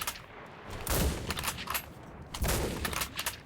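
Two Mosin bolt-action rifle shots in the WWII shooter Enlisted, each a sharp loud crack with a rolling echo tail, spaced about a second and a half apart against a faint battlefield hum.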